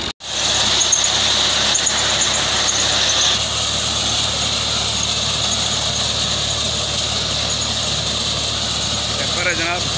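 A Fiat 480 tractor powers a corn fodder cutter, giving a loud, steady mechanical roar with a high, squealing whine that runs unbroken for the whole stretch.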